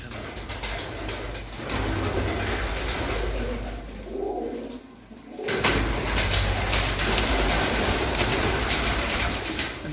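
Flock of pigeons in Hafizabad cooing softly amid a busy background rumble, with low murmuring coos rising and falling throughout and no clear talk.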